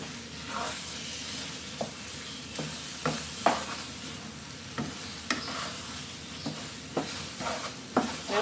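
Crab stir-fried with curry powder in a pan, with a steady low sizzle of frying under repeated scraping and clacking strokes of a spatula as the pieces are tossed, close up and with no talking.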